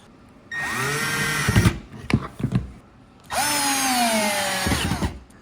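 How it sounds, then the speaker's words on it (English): A cordless power drill drives screws into the backboard of an Exadesk 55-inch electric standing desk. It gives two loud, close whirring bursts that pitch down under load, separated by clicks and knocks, with no voices. "You just put in screws all along the back and it holds it together."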